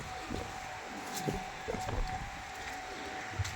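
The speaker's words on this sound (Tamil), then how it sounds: "பயங்கரமாக காற்று அடிக்குது" Strong wind blowing across a rooftop during a storm, a continuous rushing roar with gusty buffeting swells and a few faint clatters, no voices.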